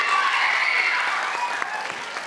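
An audience at a public speaking contest award announcement claps in a steady, even wash of applause. The clapping fades slightly over the couple of seconds, with a few louder individual claps near the end.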